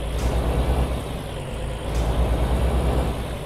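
A Peterbilt 386 truck engine modded into Euro Truck Simulator 2 rumbles steadily at idle, a deep even drone with a faint hiss of air above it, close and unbroken throughout.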